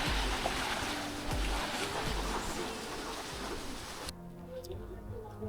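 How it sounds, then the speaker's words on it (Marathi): Waves wash onto Malvan beach at golden hour, a continuous rushing surf with soft irregular thumps, heard at moderate distance amid faint background chatter from people on the shore, thinning abruptly near the end. "समुद्राच्या लाटांचा आवाज ऐकत आहे."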